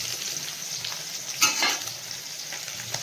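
Fish frying in hot oil in a pan, a steady crackling sizzle with one louder hissing burst midway as the pieces are stirred or turned, no talking.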